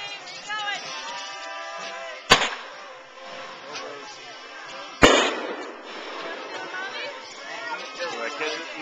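Fireworks going off at Highland Lake, two sharp loud bangs a few seconds apart ringing out over a crowd, with people talking and reacting throughout.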